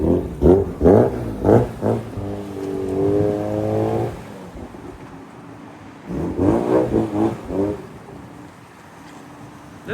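A car engine with water in its exhaust revs hard in sharp bursts, a high-pitched raspy V10-like exhaust wail rising and falling, twice with a quieter idle between.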